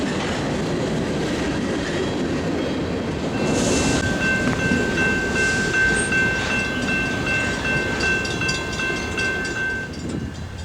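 A heavy northbound freight train rumbles past close by, with wheels clattering and a high metallic squeal ringing out over the steady roar, in Oklahoma City.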